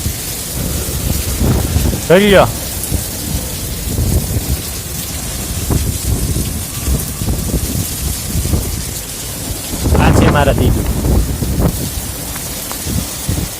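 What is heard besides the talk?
thunderstorm with heavy rain and thunder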